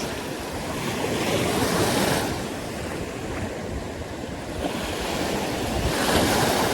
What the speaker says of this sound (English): the waves around it are still kind of moving